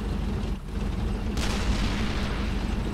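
Player's weapon fire in Brothers In Arms: Hell's Highway, a heavy shot cracking out after a short lull, followed by a sustained rumble of battle noise.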